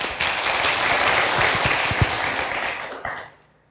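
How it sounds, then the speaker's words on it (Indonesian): A crowd at a seminar gives sustained applause, dense and loud for about three seconds before tapering off, with a few sharper claps standing out. "Aplaus buat Anda semuanya."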